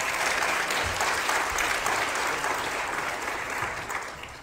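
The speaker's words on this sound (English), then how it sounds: "So give them a hand clap for being here." An audience at a testimony session claps for visiting guests, a broad, even patter of many hands that holds steady for several seconds before gently tapering off, with no speech over it.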